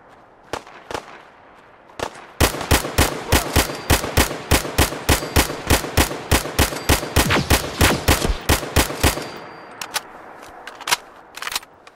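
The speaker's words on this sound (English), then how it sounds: "I just keep shooting until I think everything is dead." Rapid bursts of gunfire in modded Fallout 4, a loud sequence of sharp shots packed together in a long volley with a few scattered shots before and after.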